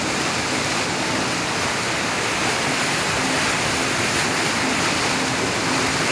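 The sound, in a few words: strong water current of a stream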